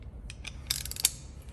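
A socket ratchet turns a 22 mm nut on a Genesis Coupe steering wheel, giving quick, faint clicking bursts in an uneven run, close by and quiet, with no voices.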